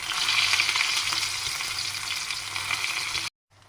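Dense, crackling sizzle of shallots and curry leaves frying in hot oil, steady and close, before cutting off abruptly near the end.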